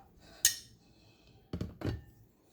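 Tomato is stirred into pasta in a pot, with one sharp metallic clink of a spoon followed after a pause by two duller scraping thuds against the pot, close and alone.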